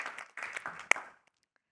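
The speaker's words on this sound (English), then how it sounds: "please help me in giving a round of applause" A panel-discussion audience breaks into a burst of clapping that lasts about a second, then quickly fades and leaves near silence.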